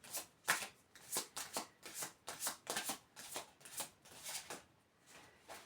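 A deck of tarot cards being shuffled during a card reading, a run of about a dozen crisp, rhythmic riffling bursts close by, with no talk over them.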